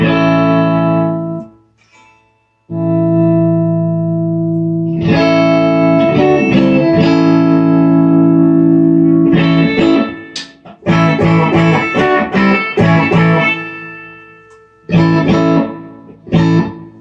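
Clean electric guitar chords from an Epiphone Peter Frampton Les Paul Custom ring out near and loud, with sustained strums, a brief pause, then quicker rhythmic strummed passages.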